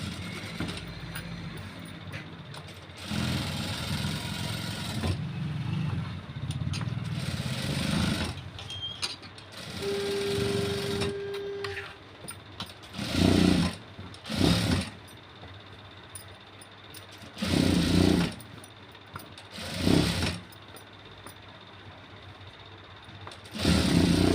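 A sewing machine stitching piping onto an embroidered blouse, running in a series of motor whirring bursts of varying length, with short pauses between them, heard up close.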